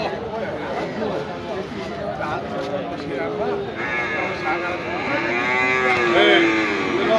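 Water buffalo calves low repeatedly at a busy livestock market, drawn-out moans rising and falling over a constant crowd murmur, with someone talking nearby throughout.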